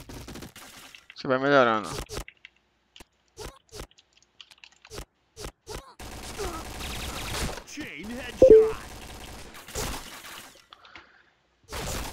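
Scattered short cracks of P90 submachine gun fire in a video game come as single taps and brief bursts, spaced between stretches of someone talking.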